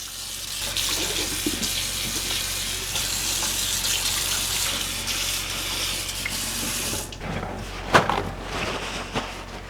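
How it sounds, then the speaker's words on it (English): A kitchen sink tap runs cold water steadily while beef is rinsed beneath it, a loud continuous gush that stops near the end, followed by a brief clatter. "I'm going to set the sink on cold and take this down here and give it a real good rinse"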